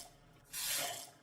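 Tap water runs from a faucet in the Satisfactory video game, a soft, brief hiss of flowing water swelling for about half a second over quiet background.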